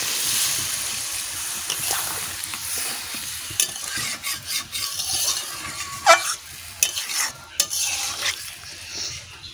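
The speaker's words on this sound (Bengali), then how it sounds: "এবার জল ঢেলে দিচ্ছি।" Kadaknath chicken curry being stirred and scraped in a pan, with a steady sizzle and a few sharp utensil clicks against the metal; no clear pour of water stands out.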